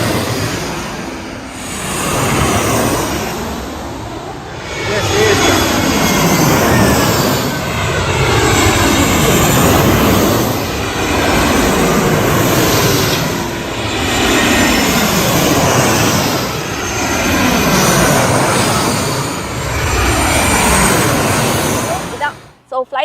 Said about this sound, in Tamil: ஃப்ளைட் வந்து டேக் ஆஃப் பண்ணி வந்துட்டு இருக்குது.